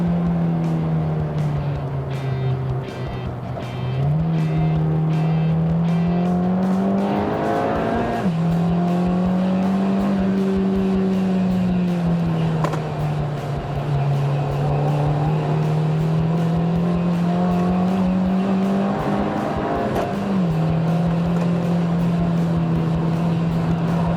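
A 2016 Honda Civic Type R lapping the Nurburgring, heard from inside: a loud, continuous engine drone that rises with acceleration, dips on gear changes and lifts, with tire and road roar throughout.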